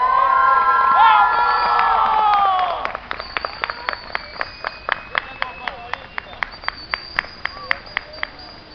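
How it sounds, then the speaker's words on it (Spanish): Children at a camp campfire cheer and shout loudly for about three seconds. The noise then gives way to steady, rhythmic clapping in unison, about fourteen sharp claps over the remaining time in a quieter outdoor setting. "Y te aplaudimos."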